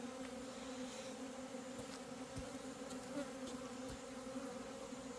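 Honeybees that had been robbing a hive have moved in and buzz in a steady, dense drone around the hive outdoors, with faint scattered clicks and no voices.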